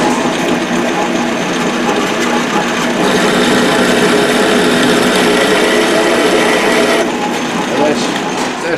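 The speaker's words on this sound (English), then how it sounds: "That's too fast for that size drill bit." A power drill whines steadily as it bores a mini vise base part, running too fast for the bit size, the motor's pitch rising and growing louder midway before easing back, a continuous grinding buzz.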